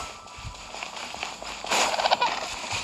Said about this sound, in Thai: มาตีตรงถังระเบิดตรงนี้